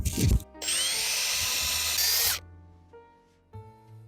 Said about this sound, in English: now we'll mount it with that before we drill the rest of the holes